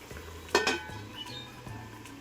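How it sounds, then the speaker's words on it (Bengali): A lid set onto a pan of simmering spiny gourd in mustard sauce gives two quick, close metallic clinks, followed by a low, quiet background hum. "এবারে আমি চাপা দিয়ে দিচ্ছি"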